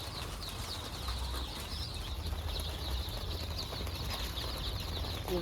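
Newly arrived chickens in a farm brooder give a steady chorus of high peeping chirps that continues throughout without pause, with soft shuffling underneath and no talking.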